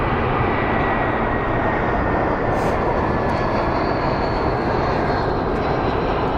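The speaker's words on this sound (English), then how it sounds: "Watching a little A320 landing above me" An Airbus A320 landing overhead near Sky Harbor International Airport in Phoenix, a steady broadband jet roar that stays loud and constant throughout with no pauses, the engine drone filling the whole moment.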